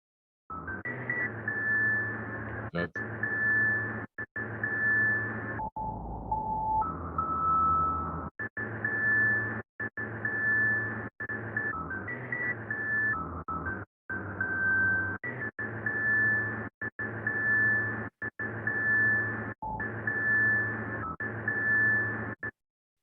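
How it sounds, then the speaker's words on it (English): A repeating electronic elevator sound effect sample of short tonal bursts with steady high beeps over a low hum, chopped into rhythmic pulses with brief gaps, loud and close. "The elevator sound. I'll play it."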